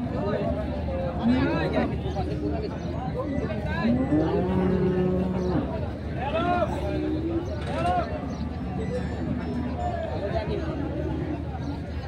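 Cattle at the Ambari weekly market, including Indian Haryana bullocks and bulls, low repeatedly up close. Their calls rise over a steady hubbub of crowd chatter and people talking.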